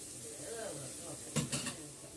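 Chicken fry sizzling in a pan, a soft steady hiss with a couple of brief stirring scrapes near the end, close and fairly quiet.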